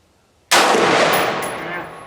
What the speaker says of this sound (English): So I'm going to try to get as many accurate shots in.